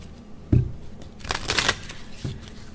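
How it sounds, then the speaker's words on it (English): Tarot cards being pulled and handled, with a soft thump, a brief burst of papery card shuffling and flicking in the middle, then another light tap; close and fairly quiet. "let me go ahead and pull this card"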